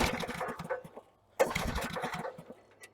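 An old Troy Bilt Super Tomahawk chipper engine is pulled over and sputters briefly, dies, then catches again in a loud close burst before fading, uneven and rough.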